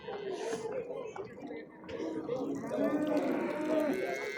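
A cow lows at a crowded cattle market, drawn-out moos rising in the second half, heard amid people talking and the bustle of the sale.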